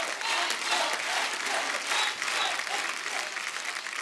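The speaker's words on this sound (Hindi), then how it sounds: "जोरदार तालियां" A studio audience at a television comedy talk show breaks into loud, sustained applause, a dense wash of many hands clapping that swells and holds steadily throughout.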